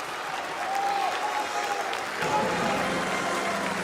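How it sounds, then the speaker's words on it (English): Chinese fans at a Clash Royale League grand final cheer and applaud, a broad, steady roar of crowd noise and clapping, with an announcer's voice and faint tones from the game beneath it. "you hear the Chinese fans cheering out"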